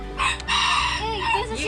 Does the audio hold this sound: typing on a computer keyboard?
no